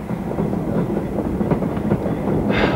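Railroad wagon rolling on its rails, a continuous low rumble with irregular clattering knocks from the wheels, close and steady with no talk.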